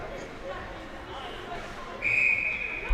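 A referee's whistle at a youth ice hockey game sounds in the last second as a sharp, steady blast, with arena noise and a commentator's voice underneath.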